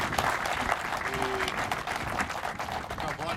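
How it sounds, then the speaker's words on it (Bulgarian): Audience applause at an awards ceremony for a charity sports tournament, a continuous wash of clapping from a crowd, fairly even in loudness across the whole stretch. "Тук специално искам с вашите аплодисменти да благодарим на Павлин Ковачев"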